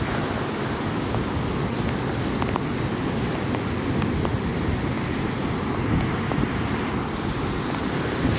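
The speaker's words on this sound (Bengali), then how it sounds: "সমুদ্র পুরোই পাগল হয়ে আসছে" Ocean waves at high tide on Kuakata beach make a steady, loud roar of surf that runs through the whole clip. Wind rushes across the microphone, and no one talks.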